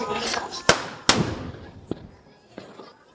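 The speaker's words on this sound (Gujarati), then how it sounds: "જો ટેટો ફોડો તમે" Diwali firecrackers burst outdoors in a village during the festival: a few loud, sharp bangs followed by fainter pops further off, with people talking amid the celebration.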